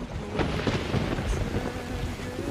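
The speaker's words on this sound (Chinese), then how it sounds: "下雨了" Rain begins with thunder: a low rumbling roll under a dense, steady hiss of rain striking surfaces, loud and close, with no talking.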